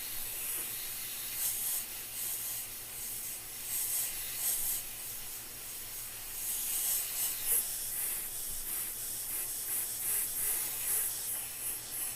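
An airbrush sprays paint over a template in a steady, continuous airy hiss that swells and fades in short bursts, close and fairly quiet with no voices.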